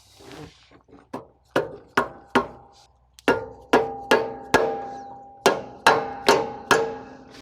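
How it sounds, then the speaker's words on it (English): A mallet tapping a pump end cover back into place, about fifteen sharp ringing metallic knocks at a steady, unhurried pace with a short pause midway, close and clear. "Now we'll take a mallet and make sure we work this very gently back on evenly."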